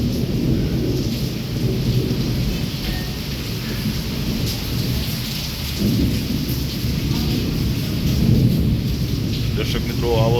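Heavy first-monsoon rain pours steadily in Wankaner during a nonstop lightning storm, with loud rolling thunder rumbling through the dense wash of rainfall, and faint voices at moments.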